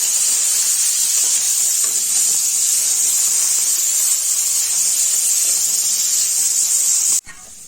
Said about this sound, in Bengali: এই যে তেলে আলুগুলো দিয়ে দিলাম, এখন হলুদ দিয়ে দিলাম, নুন দিয়ে দিলাম